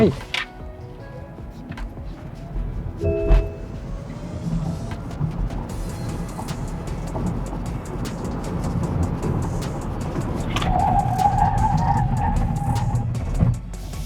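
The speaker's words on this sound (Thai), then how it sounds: "อัตราเร่ง 0 ถึง 100กิโลเมตรต่อชั่วโมงนะฮะ ทดสอบ0ถึง100 ครับ 3 2 1ไป" An MG4 electric car accelerates from 0 to 100 km/h under full power, with a rising whine and road and tire roar building steadily inside the cabin while someone talks over it.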